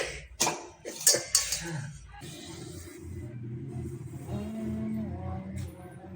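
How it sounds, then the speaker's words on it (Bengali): Kuche mud eel being cut into pieces, a few sharp knife and plate knocks near the start, then quieter shuffling handling under faint background sound. "ওই যে মাছটা কাটছি এই যে কুচা মাছ"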